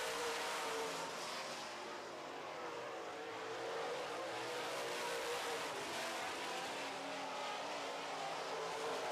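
Late model race car 77X roars steadily around a short track at racing speed, a loud continuous engine drone with a broad rushing, sustained tone throughout.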